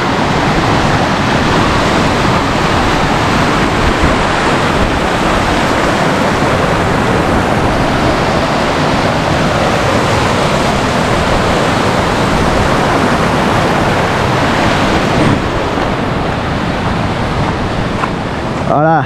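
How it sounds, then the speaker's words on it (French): A small mountain torrent on an alpine ascent roars loud and close as someone wades across it, a dense, unbroken rush of water. "Un petit torrent à traverser."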